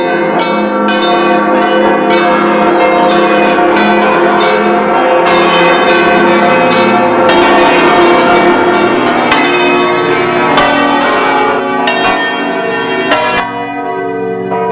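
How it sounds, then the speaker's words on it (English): Many church bells ring together in a loud, continuous peal, overlapping tones sustained throughout with repeated strikes and no voices. "what would happen if all the church bells around the world rang"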